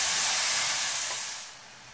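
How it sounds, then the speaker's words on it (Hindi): Pumpkin pieces frying in a pan with salt and asafoetida give off a steady, close hiss of steam and sizzle that fades slightly toward the end, with no talking. "नमक हिंग, बोपला का कच्चापन निकलने तक फ्राई करना है।"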